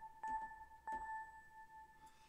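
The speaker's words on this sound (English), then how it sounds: "we're starting to get more of a bell sound." Bell-like synthesizer tones being programmed during music writing, two struck notes about half a second apart, each a clear pitched ring with a bright attack that decays quickly, playing alone without talk.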